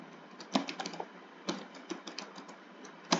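Typing on a computer keyboard, a quick uneven patter of key clicks in close bursts with short pauses, heard alone without any speech.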